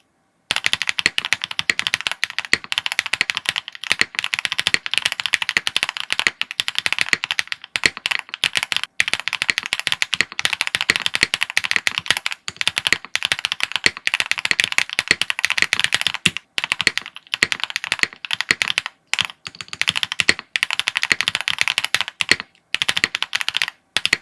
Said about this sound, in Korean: 타건을 한번 해볼게요